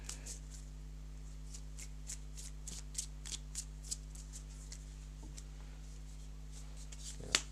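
A deck of cards being shuffled for a board game, a string of crisp riffling bursts and soft card flicks spread across the stretch, close and fairly quiet over a low steady hum.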